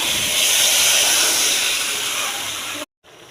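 Broth poured into a hot frying pan sends up a loud, continuous hiss like rushing steam, sustained for nearly three seconds before cutting off abruptly, followed by a quieter faint hiss.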